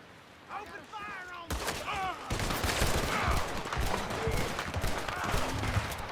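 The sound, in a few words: gunfire in the video game Red Dead Redemption 2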